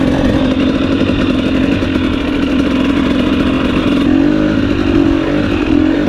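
A 2021 KTM 250 XC TPI two-stroke dirt bike engine runs steadily close by, with a buzzy, raspy drone and slight rev changes over about six seconds, loud and unbroken with no talking.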